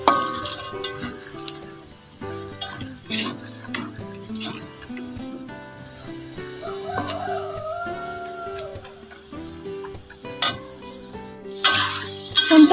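Garlic peanuts fry in hot oil in a pan, with a continuous close sizzle broken by scraping stirs and occasional clinks of a utensil against the pan; no one speaks.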